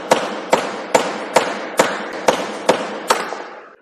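Eight sharp metallic hammer blows knock out metal between chain-drilled holes in a fitting workshop, struck at a steady rhythm about half a second apart, each ringing briefly and sounding close and loud.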